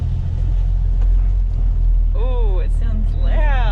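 A 4WD truck engine runs loud and steady with a heavy low rumble while the truck drives, and people talk over it.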